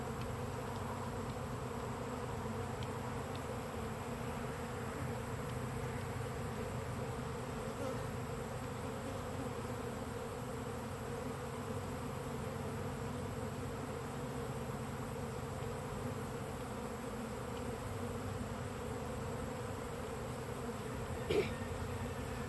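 A honeybee swarm hums steadily and softly, several smaller swarms merging into one. The drone holds at a constant level throughout with no talk, and there is one brief faint knock near the end.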